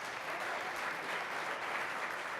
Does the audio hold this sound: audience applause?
yes